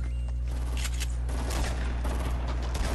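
Shotgun fire in a video game, a dense burst of loud, booming blasts that overlap continuously with no pauses and no voices over them.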